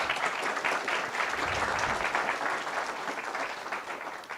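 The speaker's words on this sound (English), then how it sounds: "So applause, please." Audience applause in a tech conference room, a dense burst of clapping lasting a few seconds at moderate distance, steady then tapering slightly, with no talk over it.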